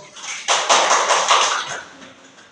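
A short burst of applause from a classroom of students breaks out suddenly, a dense patter of clapping that holds for about a second before fading out.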